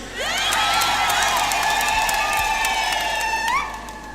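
A packed crowd at a Catholic jubilee celebration in Moshi bursts into applause for a bishop, with loud cheers and shrill rising ululations sustained throughout before easing slightly at the end.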